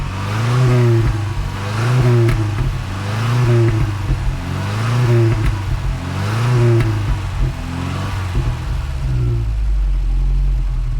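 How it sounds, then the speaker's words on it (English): A Volvo 240 SE Estate engine in the Gran Turismo racing game revs up and falls back about four times in a steady rhythm, loud and close, with the engine pitch climbing on each rev. "It's a 240 SE Estate."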